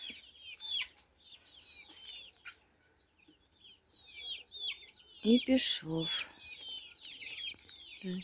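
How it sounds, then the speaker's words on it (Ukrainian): Young, half-grown chickens clucking and peeping nearby, scattered soft calls throughout, with a brief burst of louder squawks partway through and a short spoken phrase. "Це наші курчата, які вже попідростали"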